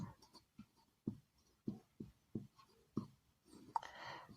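Pen or chalk writing out a math solution, a series of short scratchy strokes in a steady rhythm, close and moderately loud, ending in a longer rough stroke.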